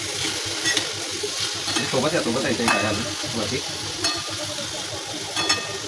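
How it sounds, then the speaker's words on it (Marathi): Ridge gourd stir-fries in spice masala and oil, with steady sizzling broken by repeated scraping stirs of a spoon in the pan, close and fairly loud. "मी आता मसाल्यामध्ये गिलके टाकून थोडेसे वाफेवर होऊ आहे आणि मग त्याला लगेच परतवायचं आहे"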